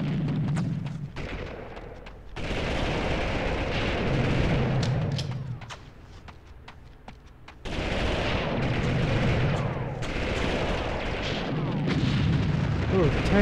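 A tank fires during a battle in the video game Army Men 3D, with repeated heavy booms and rumbling blasts through most of the stretch, over busy game noise.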